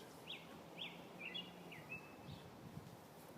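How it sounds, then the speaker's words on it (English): A bird sings outdoors, a few short, high chirping phrases repeated at even intervals over a faint background rumble, fairly distant and soft. "What's that bird? Who's singing to me?"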